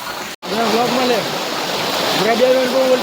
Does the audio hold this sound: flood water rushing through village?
yes